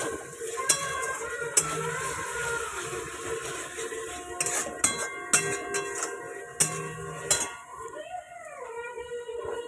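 Cabbage masala stirred and frying in a pan, steady sizzle broken by repeated sharp clinks of a spoon against the pan, with faint speech in the background.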